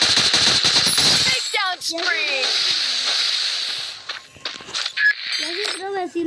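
Rapid bursts of automatic gunfire and single shots ring out in a shooting video game, loud and close, with a player talking excitedly over and between the shots.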